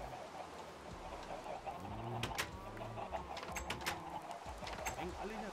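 Many Minecraft chickens cluck and coo together in a pen during heavy rain, with overlapping bird calls repeating over a steady hiss of rain and a few brief sharp clicks.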